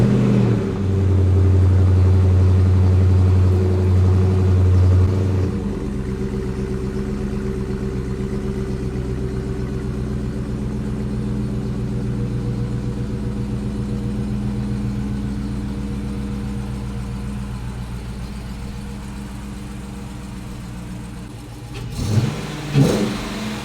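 A Dodge Charger R/T Daytona with a 5.7 engine idles with a steady, close exhaust rumble. It revs briefly at the start and again near the end, with no talking.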